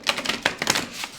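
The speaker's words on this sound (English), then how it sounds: "One more shuffle." A deck of tarot cards is shuffled by hand at close range, a quick series of crisp papery riffles and slaps in an uneven rhythm, with no talking.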